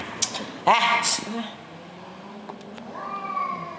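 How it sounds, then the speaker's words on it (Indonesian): A domestic cat meows loudly and close, giving a couple of strained cries early on, followed by a softer drawn-out meow near the end. "Kucing ribet sekali."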